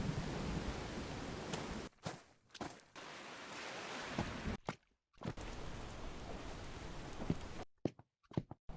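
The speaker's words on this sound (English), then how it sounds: "Let's get out of this rain." Rain in the game Murder by Choice makes a steady broadband hiss, fairly close and even, cut off abruptly several times by brief silences.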